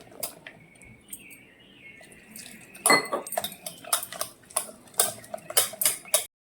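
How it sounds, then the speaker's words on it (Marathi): A whisk beats gram flour batter for bhaji in a bowl, producing quick, irregular clinks and scraping taps that start sparse, then build into a brisk rhythmic run, close and moderately loud. "फक्त एका साईडनं आपल्याला अशाच कंडिशनमध्ये कम्प्लीट पाच मिनटं पीठ फेटून घ्यायचं आहे"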